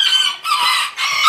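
Hens at a backyard poultry pen in Mexico cluck and crow loudly and close up, a continuous run of overlapping calls with two brief dips.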